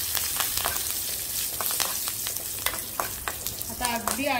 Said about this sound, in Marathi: आता अगदी अर्धा मिनिटभर मी ही कमी गॅसवर थोडी फोडणी परतून घेते तेलामध्ये चांगली।